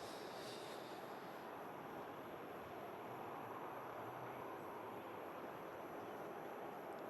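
Airliner G-LSAC lining up on the runway at Manchester Airport, heard from inside the cabin as a steady, loud broadband engine roar that holds evenly throughout with no voices.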